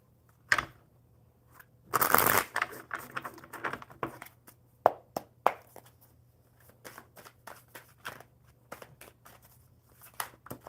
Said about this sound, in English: One more good shuffle.